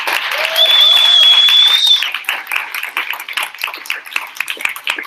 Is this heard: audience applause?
yes